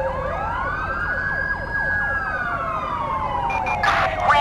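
In Grand Theft Auto V, a loud ambulance siren wails, rising and falling in long sweeps with rapid warbling, close by, over steady engine rumble.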